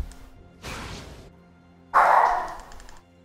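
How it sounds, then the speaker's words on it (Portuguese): A house dog barks twice nearby in a quiet room, each bark a short burst with a fading tail and the second louder than the first. "É o meu cachorro."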